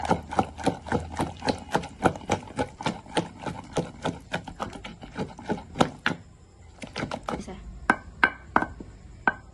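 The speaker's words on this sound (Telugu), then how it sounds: "టమాటా నలిగిపోయింది ఇలా నోరుకుంటే నలిగిపోతుంది" Boiled tomatoes and dried chillies are ground by hand on a stone, giving a rhythmic series of sharp knocks and scrapes, fairly loud and close, slowing and spacing out toward the end.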